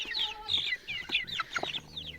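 Several roosters cluck and squawk in quick, overlapping bursts, close by and fairly loud, with no talking.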